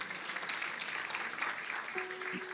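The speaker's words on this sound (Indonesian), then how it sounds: "Kasih tepuk tangan untuk saudari kita." A church congregation applauds during a sermon, a dense, continuous patter of many hands at a steady, fairly distant level, with a faint held tone entering near the end.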